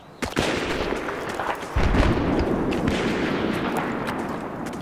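Burst-fire gunshots in the video game Battlefield 3, with sharp cracks early on followed by a dense, loud rattle of rapid fire and booming reports that sustain to the end.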